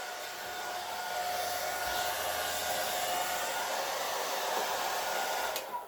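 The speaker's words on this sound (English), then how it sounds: "On my blow dryer, when you hit the cool button, it speeds it up a little bit. So that's why you hear it racing up." A blow dryer set to low and cool runs continuously nearby, a steady airy whoosh with a thin whine that keeps an even level and then cuts off with a brief click at the end.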